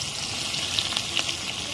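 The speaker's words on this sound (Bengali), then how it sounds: "এবার দিয়ে দিলাম আমি পেঁয়াজ কুচি।" Chopped onion hits hot oil in a wok, hissing in a bright continuous sizzle with small pops and crackles, close and steady.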